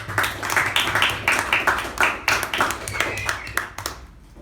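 A small club meeting audience applauds a speaker and evaluator, with a few hands clapping in an uneven, fairly close patter that fades out toward the end.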